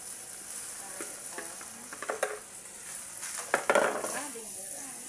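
Rice tipped into a hot pan of ginger and garlic for fried rice, sizzling and frying with scattered stirring scrapes and a few louder clatters toward the end.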